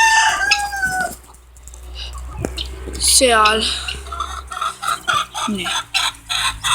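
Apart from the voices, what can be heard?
chickens and bantam rooster clucking and crowing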